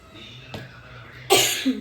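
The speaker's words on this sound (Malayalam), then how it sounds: "എനിക്കൊരു ചെറിയൊരു ചുമയുണ്ട് കേട്ടോ" Two short coughs from a person with a slight cough, one soft and one sharper and louder near the end, in a home kitchen while cooking curry.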